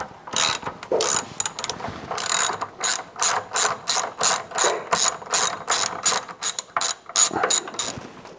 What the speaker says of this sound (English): we're going to go ahead and take these bolts out of the mount in this whole bracket